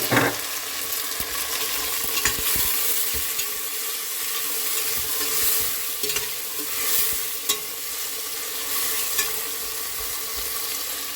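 Onions, green chilli, tomato and ginger frying in a pan and stirred, giving a continuous close sizzle broken by scraping strokes of a spoon and brief clinks, with no voices.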